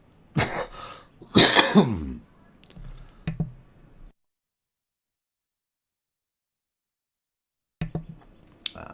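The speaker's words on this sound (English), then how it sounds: "Sorry about that cough there." A couple of sharp, close coughs burst out, followed by a few small clicks and taps, then silence before more light clicking.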